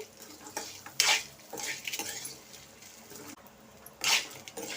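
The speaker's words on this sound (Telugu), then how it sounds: "మరీ ఆగక్కర్లేదు కొద్దిగా వేగితే సరిపోద్ది ఈ కొబ్బరి" Metal utensil scraping and clinking in a pan as grated coconut fries, with a light sizzle underneath, several distinct stirring strokes.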